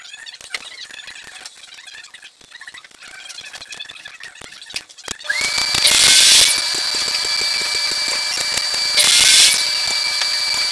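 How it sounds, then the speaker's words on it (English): Power saw cutting wooden boards: quiet clicking and handling, then a shrill motor whine starts and two loud bursts of cutting noise ring out over the running tool. "So I'm going to cut three of them at 9 inches out of this guy here."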